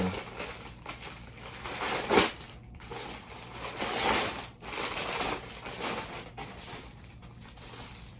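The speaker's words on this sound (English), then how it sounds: "It's gonna take me forever just to unwrap everything." Christmas gift packaging being unwrapped, with crinkly paper and wrapping rustling continuously at close range, a few sharper tearing bursts, and quiet background noise.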